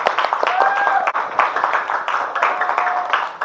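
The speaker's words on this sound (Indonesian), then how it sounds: "Tepuk 1, tepuk 2, tepuk 3, tepuk tangan." Schoolchildren in an Indonesian classroom clapping hands together, a dense patter of applause with voices calling out over it.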